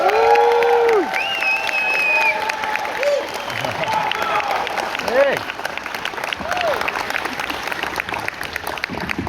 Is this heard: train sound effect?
no